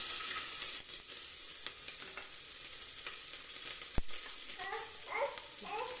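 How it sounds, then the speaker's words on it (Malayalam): Onion and grated coconut frying in oil, a bright steady hiss with a sharp clack near the middle and some stirring scrapes, a few faint background sounds near the end. "സവോളയും തേങ്ങയും കൂടെ ഒന്ന് ഫ്രൈ ചെയ്യുവാണേ."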